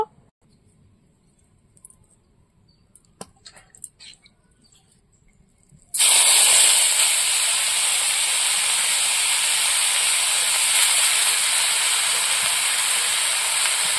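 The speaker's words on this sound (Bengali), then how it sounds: "এখান থেকে অর্ধেকটা চিংড়ি ভর্তা করার জন্য আমি ভাজা করে নেব" Prawns frying in a pan with a little oil. A quiet stretch with small kitchen clicks gives way, about halfway through, to a loud, steady sizzle that lasts to the end.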